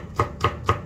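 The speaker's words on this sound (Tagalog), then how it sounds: "Hiwa-hiwa ako na maliliit." Garlic being chopped into small pieces with a knife on a board, three crisp, evenly spaced chops, close and clear, with nothing else heard.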